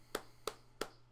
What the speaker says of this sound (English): so we should just have a clap